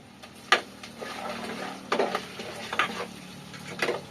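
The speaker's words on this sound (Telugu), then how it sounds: "ఒక 5 నిమిషాల పాటు హై ఫ్లేమ్లో పెట్టి వీటిని మంచిగా ఫ్రై చేసుకుంటున్నాను" Onions, green chillies and ginger-garlic frying on high flame for chicken curry, a steady close sizzle broken by several sharp scraping stirs of a spoon in the pan, no talking.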